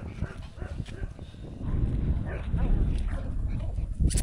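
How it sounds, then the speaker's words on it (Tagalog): Farm dogs barking in scattered, irregular bursts near a rice field, loud at times, with a person talking over them. "malaki ba ang tulong ng mga aso na inaalagaan natin"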